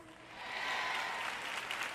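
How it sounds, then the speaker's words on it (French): A church audience applauds together at a French-language sermon, a faint, steady wash of many hands clapping that swells slightly and holds, heard from some distance. "Vous applaudissez tous"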